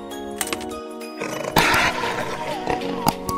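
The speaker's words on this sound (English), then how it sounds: "Tiger." A tiger's roar from a children's zoo animal sound set, a few loud harsh bursts with a sustained growling swell in the middle, close and fairly loud, set among other animal calls.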